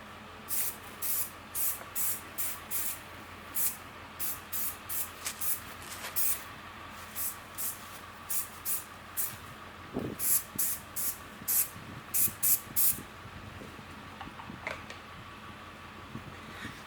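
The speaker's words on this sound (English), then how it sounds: "I use this Honda spray detailer" Honda spray detailer is sprayed onto the plastic of a 1983 Honda ATC 70 three-wheeler in quick, evenly spaced bursts, a crisp trigger hiss repeated many times with short gaps and a pause partway through.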